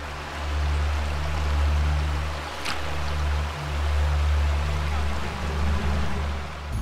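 A river flows with steady rushing water, a broad even wash of sound with a low rumble beneath and faint voices in the background.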